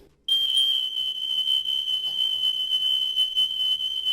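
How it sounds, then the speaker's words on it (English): A household smoke alarm in a rental property sounds during a test, one continuous shrill high-pitched tone that starts abruptly and holds steady and loud to the end. "just grab something that's nearby, like a stick, if you can't reach the fire alarm, and test it out"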